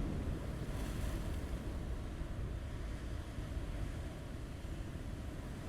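Ocean waves crash against a rocky waterline at the edge of a tidal plateau, a steady, dense roar of surf with wind noise that runs unbroken from start to finish, distant-sounding but continuous, with no voices.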